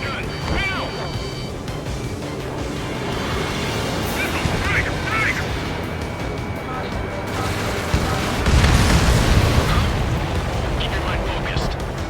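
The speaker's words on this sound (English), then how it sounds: "Fire anti-air gun. Now!" Anti-air gun fire and explosions from the Ace Combat 7: Skies Unknown flight game make a dense, steady rumble of bursts and booms, with a heavier blast near the end and radio voices talking over it.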